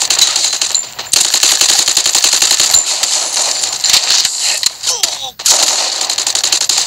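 Rapid automatic gunfire from the Free Fire battle royale video game, loud bursts of dense shots with brief pauses between volleys.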